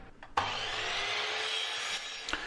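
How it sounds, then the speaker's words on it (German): A saw cuts a 45-degree half-lap joint into the wooden side piece of a picture frame, one continuous close rasping cut that starts abruptly after a few light knocks and ends with a couple of taps. "Nun säge ich eine 45 Grad Überplattung an die Seitenteile des Rahmens"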